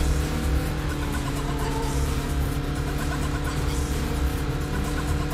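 A Porsche 944 race car engine in the racing video game Need for Speed: Porsche Unleashed drones loud and continuously, with a dense, rough mechanical roar that holds steady throughout and has no voices over it.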